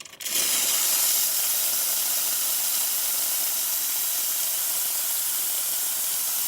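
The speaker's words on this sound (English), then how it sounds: "And now for the steamer." A Vibiemme espresso machine's steam wand, just serviced for overheating, lets out a steady, loud, close hiss that starts abruptly and holds unbroken for several seconds with no voices.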